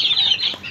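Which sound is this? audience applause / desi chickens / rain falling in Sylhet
desi chickens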